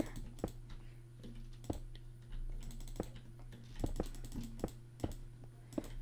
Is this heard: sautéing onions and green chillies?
no